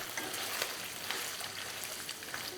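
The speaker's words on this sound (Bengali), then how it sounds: "তো এই পনিরগুলোকে আমি ব্যাচ ওয়াইজ ভেজে নিচ্ছি" Paneer cubes fry in a batch in oil over medium-low heat, giving a quiet, continuous sizzle dotted with small crackles and pops.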